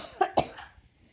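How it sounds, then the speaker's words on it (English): Two sharp, close coughs from an elderly woman in quick succession, trailing off into quiet. "I'm gonna cough, just give me a sec."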